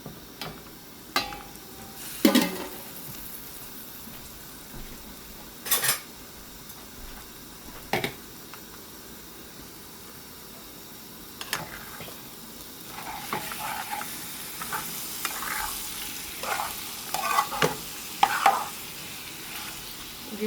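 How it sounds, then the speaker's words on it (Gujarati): Eggs cook in a pan on a gas stove, a soft steady sizzle under scattered clicks and scrapes as they are turned, with busier utensil noise toward the end and no talking. "ચાલો આપણે ઈંડા ફેરવીને જોઈ લઈએ."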